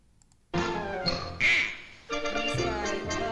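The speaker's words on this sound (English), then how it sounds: "So Porky is on a duck hunt" Duck quacking in a vintage Looney Tunes cartoon featuring Porky on a duck hunt, several loud nasal quacks in quick bursts over a music backdrop.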